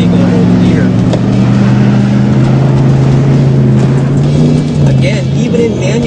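Pickup truck engine revving in manual mode, failing to hold its gear so the RPMs bounce up and down; a steady, close, loud drone with wavering pitch throughout, with some talk over it.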